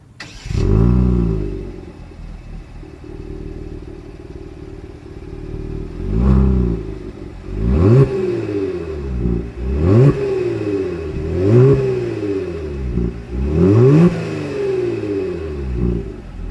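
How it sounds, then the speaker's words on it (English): A 2020 Genesis G70 sedan's exhaust starts up, then revs several times in sharp rising bursts between steady idling, close and loud with no speech. "As always, here is that exhaust clip."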